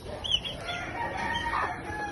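Chickens cluck steadily at close range, with soft overlapping calls and a low background murmur throughout.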